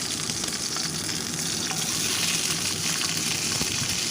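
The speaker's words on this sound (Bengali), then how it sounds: "তেলটা এখন গরম হয়ে গেছে, এর মধ্যে আমি গোটা গোটা বেগুনগুলো বোটা সমেত ছেড়ে দিচ্ছি।" Whole eggplants with their stems on frying in hot oil, a steady, dense sizzle with light stirring over a continuous bubbling hiss.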